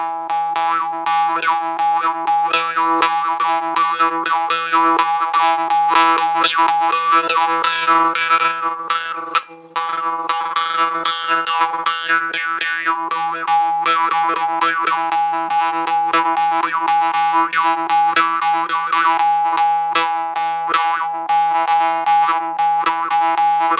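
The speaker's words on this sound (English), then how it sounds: "And this is a Indian morsing." An Indian morsing, a metal jaw harp, twanged continuously with a buzzing, resonant drone and shifting overtones, loud and close, with one brief drop partway through.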